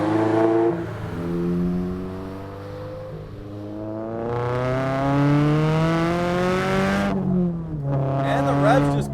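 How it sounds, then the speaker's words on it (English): Turbocharged Subaru BRZ engine revs hard under load, its note climbing repeatedly through rising gears with brief drops at each shift, loud and close. "And the revs just keep building."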